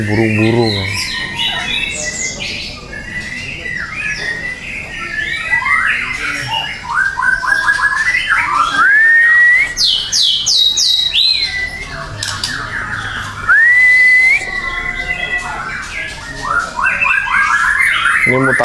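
Many caged birds chirp, whistle and squawk continuously and loudly at close range, overlapping calls and rising whistles filling the whole stretch.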